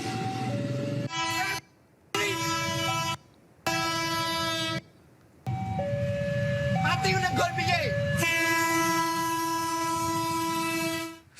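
A KRL commuter train blares its horn in several loud, separate blasts, then holds one long horn as it rumbles past close by at a level crossing in Solo, Central Java.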